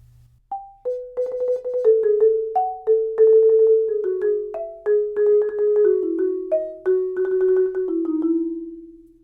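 A snare drum passage where the rolls carry straight through the tied notes, giving a steadier, more continuous buzzing line.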